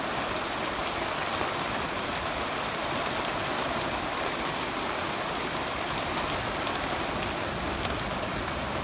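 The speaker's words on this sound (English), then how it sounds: "It's raining, but not much." Light rain falls steadily outdoors during an afternoon storm, an even soft hiss with no speech over it.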